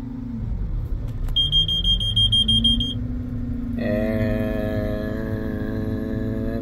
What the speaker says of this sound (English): Let's try to engage our separator.